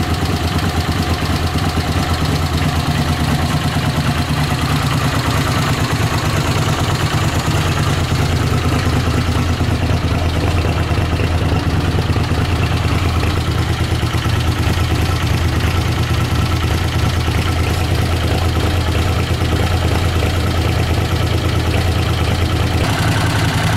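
A Honda CX500 motorcycle engine idles steadily with a continuous low rumble and mild knocking vibration, close and loud throughout with no clear rev bursts standing out.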